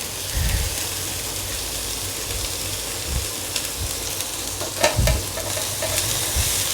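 Finely shredded cabbage sizzles steadily in a hot pan, with a few soft stirring scrapes breaking through the constant frying hiss, close and alone without voices.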